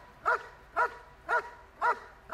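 A dog barks steadily at a decoy during protection training, five evenly spaced, moderately loud barks in a regular rhythm with short pauses between.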